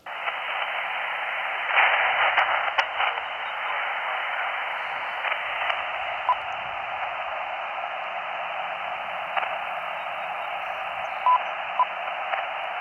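Hiss and static from a ham radio receiver at an outdoor field station, with a very weak distant station buried in the band-limited noise, steady throughout with faint crackles and no clear voice.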